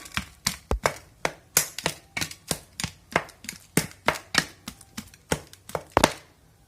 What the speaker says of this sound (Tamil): இப்போ வேக வச்ச பழங்கள் எல்லாம் பீஸ் பீஸ் ஆக்கிக்கலாம்